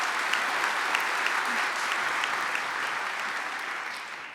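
An audience applauds at a school graduation ceremony in Hof, a dense, even wash of clapping from a large crowd that holds steady and slowly tapers toward the end.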